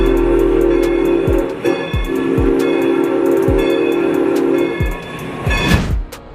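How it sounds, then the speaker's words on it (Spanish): Steam locomotive 630 blows its whistle as steam pressure is released through a manual valve, a loud sustained multi-tone blast over steady rumbling and rhythmic chuffing exhaust, with a brief louder burst near the end. "El maquinista acciona una válvula manual para liberar vapor a presión y hacer sonar el silbato."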